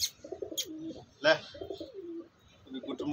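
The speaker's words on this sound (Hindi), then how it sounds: "अभी कुटुर मुटराने लग चुका है," Pigeons cooing in soft, repeated rolling phrases, close and moderately loud, with a few brief sharper chirps and short gaps between the coos.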